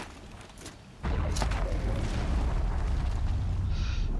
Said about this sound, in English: Alright, tear blast ammo.